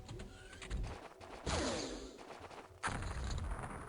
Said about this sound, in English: Someone throw a grenade at us?